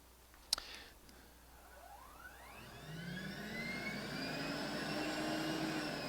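A Rainbow SRX vacuum cleaner with a four-speed motor starts with a click, then its motor whines up to a steady, loud high-speed drone. The pitch climbs over several seconds and settles into a sustained whir.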